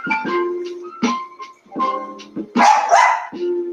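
A dog named Chocolate barks in a series of sharp, close bursts with short gaps, the last few louder and rougher, no voices over them.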